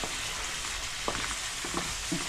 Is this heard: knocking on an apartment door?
no